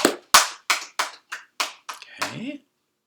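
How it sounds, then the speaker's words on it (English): About seven or eight sharp, close hand claps come at a steady pace in an Easter teaching session. A brief voiced sound follows the last clap. "Clap your hands if you are still in your pajamas right now."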